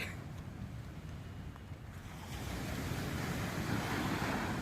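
Sea waves roll in on Digha beach on the Bay of Bengal in the morning, a broad continuous roar with wind buffeting the microphone, building steadily louder.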